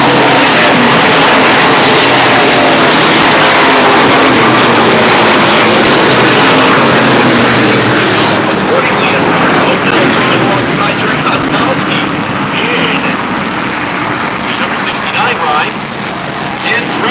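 Race cars at the Lancaster track roar past in a dense, loud, continuous wash of engine noise that eases slightly partway through, with a commentator's voice running over it.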